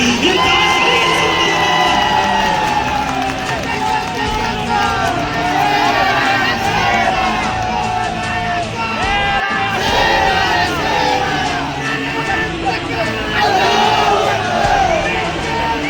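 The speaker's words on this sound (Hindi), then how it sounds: "जोरदार तालियों से इस्तकबाल कीजिए" A large crowd at a political rally in Mustafabad, Chand Nagar, cheers, whoops and shouts loudly and continuously, with a dense roar of many voices close by throughout.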